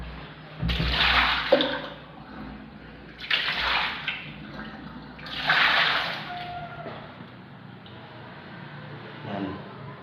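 Water poured down a replaced PVC toilet drain pipe running inside a ceiling on a second floor, rushing in three loud bursts before easing to a quieter trickle, with no talk over it.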